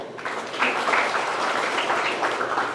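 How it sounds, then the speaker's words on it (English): Audience clapping at a high school senior scholarship night as names are read out, a moderate burst of applause that swells shortly after starting and carries on evenly. "Let's just hold the applause till the end unless somebody comes up."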